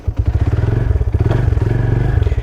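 Motorcycle fitted with an H4 projection LED fog headlight rides along, its engine thrumming in a steady, close, pulsing rhythm with light clattering and thumps from the bike throughout.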